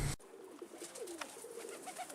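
An Indian pigeon, a cropper-type bird, coos softly in a few short, soft warbling calls after a sharp knock at the start, with no talk.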